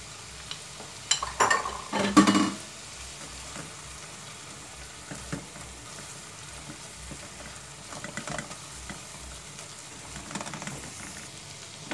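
Onion and grated garlic fry in a pan, a soft steady sizzle with a brief burst of stirring and clinks near the start, then quieter crackling spatters throughout.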